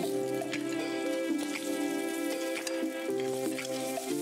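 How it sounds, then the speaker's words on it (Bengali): Boiled potato chunks and boiled eggs fry with salt and turmeric in a pan for parda biryani, giving a steady, moderate sizzle over a sustained tonal hum, with no talking. "সেদ্ধ করে রাখা 2 বড় টুকরো আলু এবং সেদ্ধ ডিম সামান্য নুন আর হলুদ সহযোগে ভেজে নিচ্ছি"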